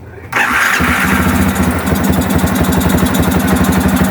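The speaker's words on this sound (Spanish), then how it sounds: "vamos a darle ignición a la motocicleta" A Yamaha XTZ 250 motorcycle engine cranks and fires after a brief quiet moment, then settles into a loud, close, rapid steady idle chatter.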